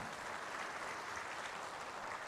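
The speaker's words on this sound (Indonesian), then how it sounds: "Boleh tepuk tangan." Audience applause during an Islamic sermon on hijrah, a dense, even wash of clapping held steady for a couple of seconds with no voices over it.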